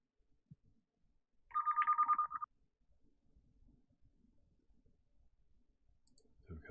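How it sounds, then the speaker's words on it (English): Phone ringing during a live online board-game session, a single short electronic ring burst of rapid pulses at moderate level, surrounded by near silence and faint clicks. "Somebody's phone's ringing."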